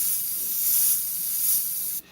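Createx paint sprayed lightly from an airbrush onto synthetic paper, a steady soft high hiss that swells slightly, then cuts off near the end.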